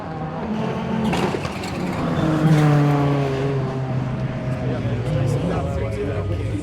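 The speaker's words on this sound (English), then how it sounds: "Over in New Jersey, the Rallycross team is in the midst of qualifying." A rallycross race car during qualifying in New Jersey, its engine droning steadily with rising and falling pitch over several seconds, heard under talk.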